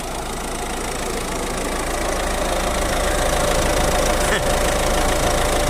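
A Peugeot 308 1.6 litre 8-valve turbo diesel of 120 horsepower runs steadily at idle with a knocking, even drone, loud and constant throughout.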